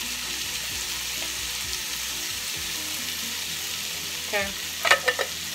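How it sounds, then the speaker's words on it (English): Drained canned corn cooks in butter in a skillet, giving a soft, continuous sizzle, with a few clattering stirs near the end and one brief spoken word. "I got me a skillet and I'm just going to add some butter to it for my corn and just let it cook in there."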